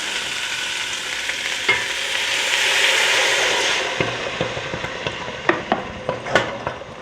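Sauerbraten braising liquid hits a hot pot and sizzles loudly, the hiss swelling then fading, followed by scattered clinks and scrapes of a utensil against the pot.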